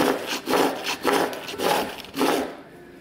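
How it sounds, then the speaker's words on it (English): A wooden stick is sanded with a sandpaper block in steady back-and-forth strokes, about five close, raspy rubbing passes at an even rhythm, with no voices. "a little piece of sandpaper on that, and that will give us a height depth, and then we can sand that down"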